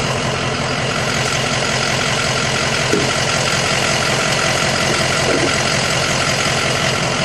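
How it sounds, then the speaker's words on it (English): A truck engine idles steadily with the hood open, a constant close-up rumble running alone for the whole stretch with no voices. "And here is our engine. It sounds great."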